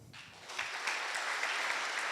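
A conference audience breaks into applause during a show-of-hands survey, a dense, even wash of clapping that swells quickly and holds steady.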